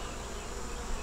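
Honey bees buzz around a double-deep eight-frame hive by a magnolia tree in South Carolina, a steady, fairly faint hum of many insects with no talking.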